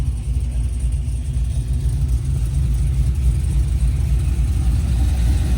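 A 2003 Chevy Silverado with an LS3 engine swap idles steadily, a deep, loud rumbling exhaust with a constant low throb that holds even from start to finish, no voices.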